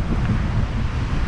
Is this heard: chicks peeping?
no